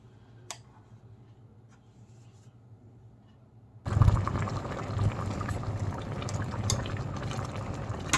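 Dried bamboo shoot curry comes to a boil in a pot, quiet at first and then breaking into a loud, dense bubbling and gurgling that keeps going to the end.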